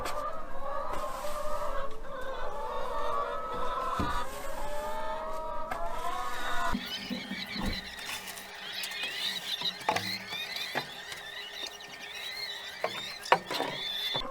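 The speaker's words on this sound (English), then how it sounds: "I'm trying to work with the chickens here." Backyard chickens cluck and squawk close by in repeated bursts, mixed with scraping and clattering from spider web removal work.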